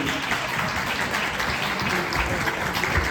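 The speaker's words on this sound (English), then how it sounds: "Please give a round of applause for them, guys." Audience applause for the winners at an international scientific conference, a dense, steady clatter of many hands clapping continuously throughout at fairly close range, with no clear talk over it.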